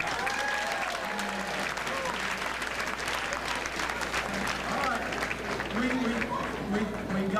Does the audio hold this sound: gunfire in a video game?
no